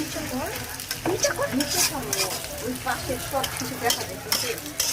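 Egg fries in browned spice paste with a lively crackling sizzle and frequent stirring scrapes, heard close and fairly loud. Faint murmuring voices sit in the background.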